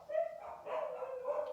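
Dogs barking at passing runners outside a house, a few quick yapping barks and whimpers at moderate distance, fairly faint.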